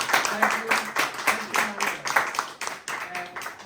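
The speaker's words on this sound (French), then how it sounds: "Est-ce qu'on peut applaudir vraiment le Dr Strauss?" A conference audience breaks into applause, a dense burst of many hands clapping in uneven waves that rise and fade over a few seconds, with some voices mixed in.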